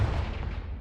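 A Confringo explosive spell cast in a Hogwarts video game lets out a loud, deep booming blast whose heavy rumble carries steadily through the whole short moment.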